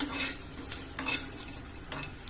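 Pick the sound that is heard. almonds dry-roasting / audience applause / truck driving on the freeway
almonds dry-roasting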